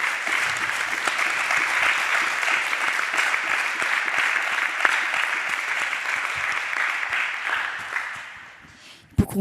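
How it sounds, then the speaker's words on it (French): A festival audience gives sustained, loud applause for a speaker, a dense wall of clapping that holds steady for several seconds before tapering off near the end. "J'aimerais qu'on puisse l'applaudir quand même très fort parce qu'elle porte des super projets."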